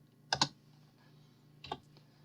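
Two separate computer keyboard key presses for a SketchUp shortcut, sharp close clicks about a second and a half apart in a quiet room.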